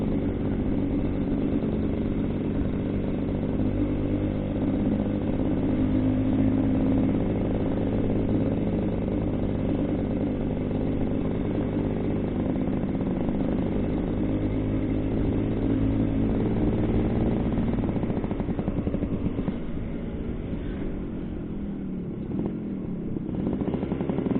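A 1989 Suzuki A100 motorcycle engine idles steadily while warming up on a cold start, a continuous close, fairly loud drone that holds even for about twenty-four seconds.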